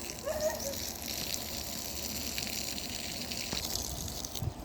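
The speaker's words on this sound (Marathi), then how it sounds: "असाच नळ आला तर म्हटलं पाणी टाकून घ्यावं" Municipal tap water gushing steadily from an opened household tap, a continuous broadband rush that stays loud and even throughout with no talk over it.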